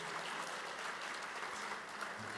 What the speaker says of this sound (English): a big round of applause for Jamie